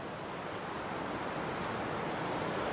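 A river rushes at the bottom of a deep ravine in West Java, giving a steady, even roar of flowing water with no talk over it.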